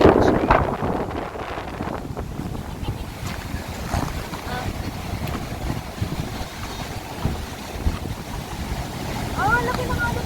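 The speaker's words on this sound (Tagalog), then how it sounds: "laki ng alon dito" Big ocean waves roll and wash at a beach in Burgos, Pangasinan, a steady broadband surge with wind buffeting the microphone, while people talk nearby throughout.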